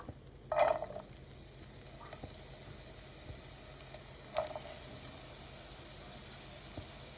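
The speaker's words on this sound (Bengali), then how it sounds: "আর এখন আমি এই ফ্রাই প্যানের মধ্যে কিছুটা পেঁয়াজ কুচি দিয়ে নেব।" Chopped onion sizzles in oil in a frying pan for a shrimp bhuna, a steady soft hiss and crackle throughout with a couple of sharp clinks of a utensil against the pan.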